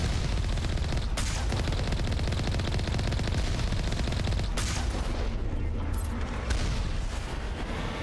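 Sustained rapid gunfire from shooting turrets in the video game Mass Effect, dense and loud throughout with a few short breaks between bursts and a voice talking underneath.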